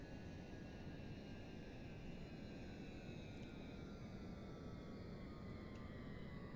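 An aircraft engine throttles up in a flight simulation during a pizza delivery run, a steady loud drone with a constant broadband roar and faint high whine throughout.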